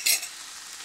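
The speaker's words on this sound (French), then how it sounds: "Et là, on vient mélanger gentiment" Tomato coulis being stirred gently in a pan, a brief scraping swish at the start, then a soft steady hiss as it settles, close and quiet with no talking.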